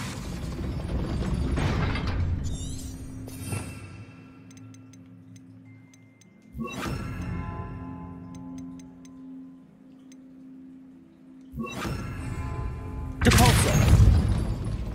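Depulso and Levioso spells cast in Hogwarts Legacy: bursts of magical whooshes and impacts alternate with ringing, chiming tails and mechanical clicks, fairly loud against a soft game ambience.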